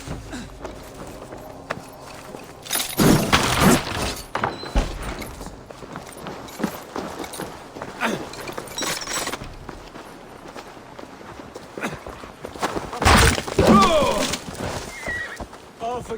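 Horses in the video game Assassin's Creed Valhalla, two loud close neighs several seconds apart over hoofbeats and clattering movement, with game sounds in the background.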